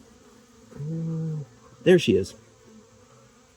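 Bees buzz near a caged queen bee kept outside for weeks without food, a short loud burst of close buzzing after a brief low drone, with a person speaking briefly.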